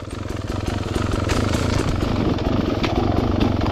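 Dirt bike engine chugging with a rapid, rough pulse while rolling downhill on a rocky trail at Twin Hills Cycle Ranch, loud and close, building slightly as it goes.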